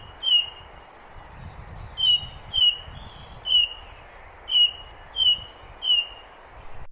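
Mistle thrush calling outdoors, a series of about eight short, clear, repetitive notes at fairly even intervals, moderately distant over faint background noise.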